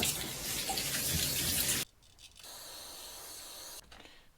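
Cleaner sprays into a generator carburetor bowl in a loud hissing burst of nearly two seconds, followed by a softer continuous hiss and then a brief final spurt.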